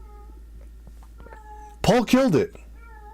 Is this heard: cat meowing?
yes